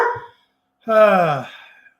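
A dog named Zoe lets out a single loud, close bark with a strained, slightly whining tail, following a brief fainter sound, with no talk over it.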